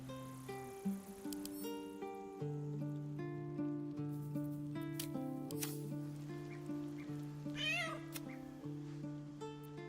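A cat meows in Baldur's Gate 3, with several close, clear meows rising over a steady, tonal ambient backdrop.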